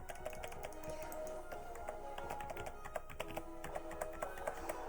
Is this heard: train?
no